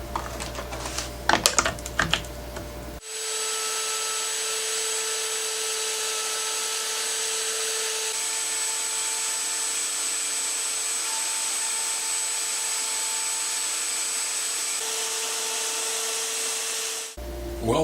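A CNC router cutting a wooden gear, its spindle a loud, steady, even whine with a constant tone that runs for about fourteen seconds, with clatter and handling noises at the start and at the end.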